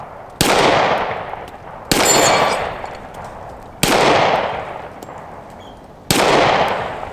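Four sharp, loud pistol shots from a Smith & Wesson M&P Compact ring out about two seconds apart, each followed by a long fading metallic ring from a struck steel plate.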